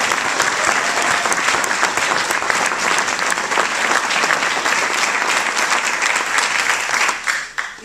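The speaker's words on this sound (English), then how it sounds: "I'd like to pause for a minute and give a brief round of applause for all the mentors who helped out" Sustained audience applause for mentors at a demo day, loud, dense and even throughout before thinning out and fading in the final second.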